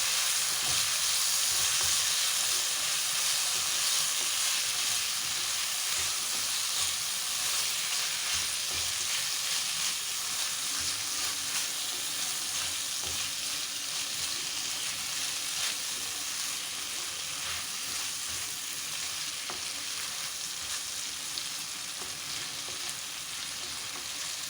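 Chena mezhukkupuratti, an elephant foot yam stir-fry, sizzles steadily in a pan while being stirred, giving a continuous close frying hiss with occasional scraping, and no talk is heard.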